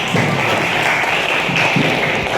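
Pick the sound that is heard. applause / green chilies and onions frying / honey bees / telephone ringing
applause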